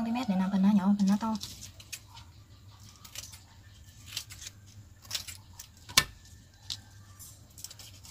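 Floral wire being snipped into short lengths for tissue paper flower leaves, giving scattered small clicks and one sharp cut, with a person speaking at the start.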